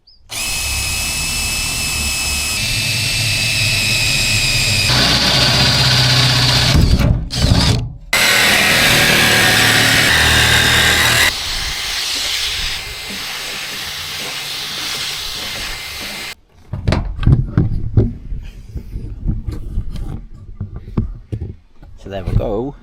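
A power drill and cutter working through a vehicle roof to fit an AirPlus unit, loud and sustained whining for about sixteen seconds, then stopping into scattered knocks and handling clatter.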